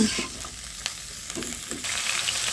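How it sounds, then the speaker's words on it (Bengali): Cauliflower frying in hot oil in a pan beside fish being cooked, a steady close sizzle with occasional soft stirring clatter, no talking. "এখানে ফুলকপিটা আলাদা করে তেলের উপর ভাজি করে নেব"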